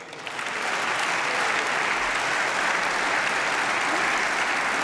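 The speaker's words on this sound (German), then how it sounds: "Applaus" Parliamentary applause in the German Bundestag: many hands clapping in a broad, even wash that swells in quickly and holds steady at a moderate distance, with no voices on top.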